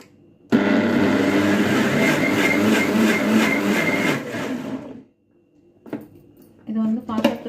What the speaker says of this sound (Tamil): எல்லாம் மிக்சியில் போட்டு நல்லா மைய அரைச்சி எடுத்துக்கணும்.